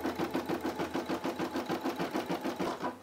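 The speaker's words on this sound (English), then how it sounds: "looks like it's stitching a little outline for us here, little design" A Brother SE600 embroidery machine stitches out a football outline design, its needle running in a fast, steady rhythmic chatter close to the mic with no talking.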